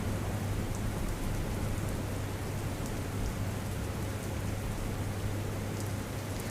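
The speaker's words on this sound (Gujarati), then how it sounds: "ગીર સોમનાથના અનેક વિસ્તારોમાં ભારે વરસાદ પડી રહ્યો છે।" Heavy monsoon rain falling across Gir Somnath in Gujarat, a loud, continuous dense roar of downpour with a low steady rumble beneath, no voices.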